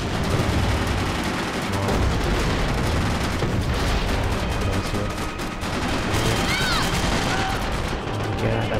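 Steady M4 rifle fire and battle noise from Max Payne 3 multiplayer form a loud, dense, continuous wash of rapid shots with faint chirpy effects near the end.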